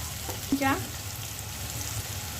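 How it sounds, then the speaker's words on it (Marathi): Onion, tomato, turmeric and coriander powder fry in a pan for a black-eyed pea curry, a soft continuous sizzle with a brief stirring scrape near the start. "मसाला भाजून घेते।"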